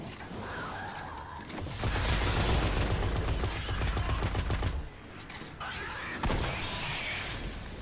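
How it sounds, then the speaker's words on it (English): Rapid bursts of gunfire from the video game Destiny rattle loud and dense for several seconds, dropping briefly before another burst resumes, with faint talk in the background. "I can shoot stuff too."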